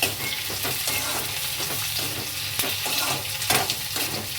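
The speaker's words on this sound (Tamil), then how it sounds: "கேப்சிகம் போட்டுட்டு உடனே மசால் போடாதீங்க, கொஞ்ச நேரம் அது எண்ணெயில் வதங்கட்டும்" Capsicum sautés in hot oil for bisibele bath, with a constant crackling sizzle and repeated clinks and scrapes from stirring in the pan, close up and alone.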